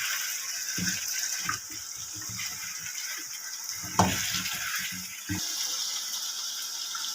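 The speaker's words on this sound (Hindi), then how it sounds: "अब हम इसमें ऐड करेंगे टिंडे। इनको भी हम साथ में अच्छी तरह से भून लेंगे।" Tinda (apple gourd) being fried and stirred in a pan, a steady close sizzle under irregular scraping and stirring knocks, with a sharper clatter midway.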